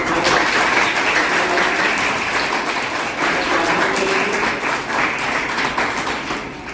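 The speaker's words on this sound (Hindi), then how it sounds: "तो आप सभी विशेष एक बार जोरदार तालियों से" Loud, sustained applause from an audience of students at a Brahma Kumaris spiritual session in a gurukul, dense clapping filling the whole stretch with a few voices and calls mixed in.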